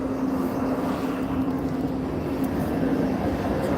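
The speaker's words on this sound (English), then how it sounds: "that kind of AC engine sound that these trains make" A train's AC engine hums with a steady drone and a constant mid-pitched tone, heard trackside at Belgrove near Glasgow city centre. The sound stays even and fairly loud throughout, with no one talking.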